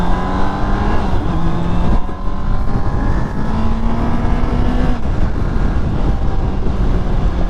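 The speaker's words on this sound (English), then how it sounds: "let's ride the bike like normal for a while" A Honda CBR650R sport bike ridden with its e-clutch switched off roars loudly and continuously, its engine pitch rising and falling through gear changes, with heavy wind noise and no talking.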